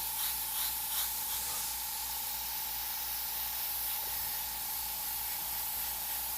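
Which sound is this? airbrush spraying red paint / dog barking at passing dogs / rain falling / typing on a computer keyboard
airbrush spraying red paint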